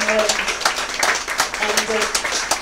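Applause from a pub crowd at an afternoon music event at the Bulls Head in Barnes, a close, uneven burst of individual claps with scattered voices and chatter mixed through it.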